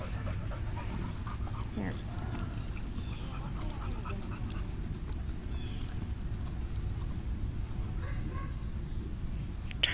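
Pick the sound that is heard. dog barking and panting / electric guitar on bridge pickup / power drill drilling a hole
dog barking and panting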